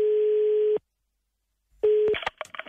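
Phone line tone heard while calling out: a steady ringback tone sounds for under a second, followed by a silent gap, then the tone returns and is cut off by clicks and line noise as the call connects.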